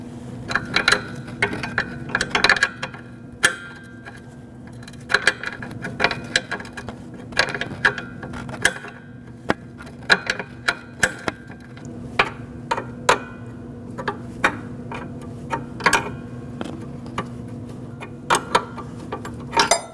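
A wrench tightening the brake line on a rear inner brake hose of a 2009-2015 Honda Pilot gives irregular metallic clicks and small ratcheting taps close up, over a low steady hum, with no talking.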